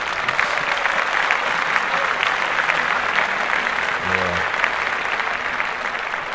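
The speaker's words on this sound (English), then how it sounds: "We want to clap that up." A podcast studio audience claps steadily for several seconds, a dense, sustained wash of applause with a brief voice surfacing near the middle.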